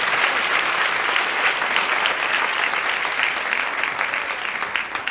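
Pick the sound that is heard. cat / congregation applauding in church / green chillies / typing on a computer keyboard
congregation applauding in church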